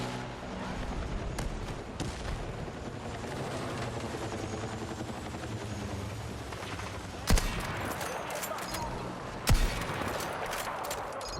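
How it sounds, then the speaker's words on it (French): Explosive sniper rifle fire in Battlefield 6 on Wake Island: two sharp, loud cracks a couple of seconds apart over a constant bed of battlefield rumble and distant gunfire. "Oh, mais c'est un sniper explosif."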